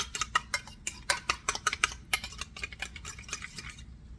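Buttermilk and pepper are stirred together for fried chicken, giving a quick run of light clinks and taps of a utensil against the bowl, close and fairly quiet, fading out at the end.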